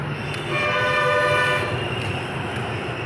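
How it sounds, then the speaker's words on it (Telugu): A Hyderabad metro train rolls past at close range, near Kukatpally. A loud, steady rumble has a tonal whine that swells and then eases over a few seconds. No speech. "మెట్రో వెళ్ళిపోతుంది."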